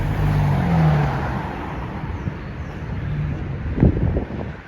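Road traffic on Bath Road in Bournemouth town centre: a steady wash of passing cars close by with wind buffeting the microphone and a brief louder thump near the end.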